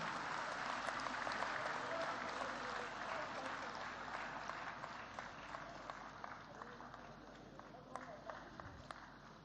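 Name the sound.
applause for honorees at a ceremony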